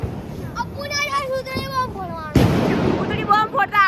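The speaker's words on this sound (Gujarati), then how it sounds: "હવે બધા અહીંયા અમે સાથે મળીને અહીંયા ફટાકડા ફોડીશું" Diwali firecrackers go off outdoors with a loud sudden burst midway, amid children's excited chatter and voices throughout, more crackling following the bang.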